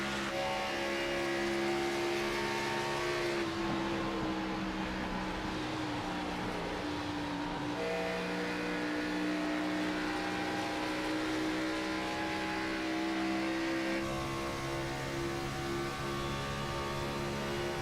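Sim race cars lapping Charlotte Motor Speedway, engines droning steadily and loudly throughout with layered harmonic whine from several cars running close together, pitch shifting slightly as they jostle for position.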